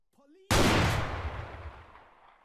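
A single loud gunshot from a suspect's gun in the game ArmA 3 cracks out sharply and close, then rolls off in a long fading reverberant tail, with a brief faint voice just before it.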